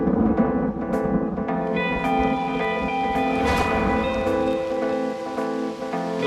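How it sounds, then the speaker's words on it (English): Rain falling outdoors in cold weather, a steady dense patter that continues unbroken at a fairly strong level, with faint tonal sounds mixed beneath it. "You like the rain? It's cold."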